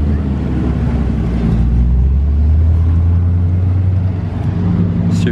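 An Audi RS6 on the road gives off a deep, steady engine rumble close by, staying loud and even throughout with no clear rise or fade.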